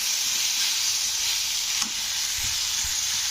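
Spice masala fries in a pan for an egg curry, producing a loud, continuous bright hiss of sizzling oil held close to the microphone, with a faint clink near the middle; no talking.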